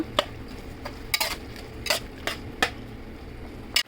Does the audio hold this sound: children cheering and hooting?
no